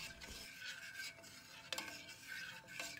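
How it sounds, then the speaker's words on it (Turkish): Walnut and grape molasses lokum mixture stirred in a pot over medium heat on the stove, a soft continuous scraping and bubbling with a few spoon knocks against the pot, faint and close. "Orta ateşte karıştırarak pişiriyorum."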